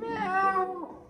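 A person's voice imitates a cat with a single drawn-out, whiny meow that rises and then falls away. It is close and clear, with nothing else behind it.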